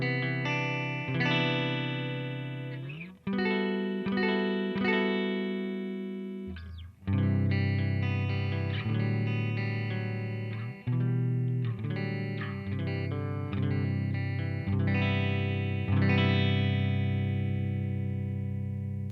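A Telecaster on its middle pickup plays through a Vintage Vibe amp simulator plugin on a clean setting with slight ambience, ringing chords and single notes that let each strum sustain and decay, close and clear.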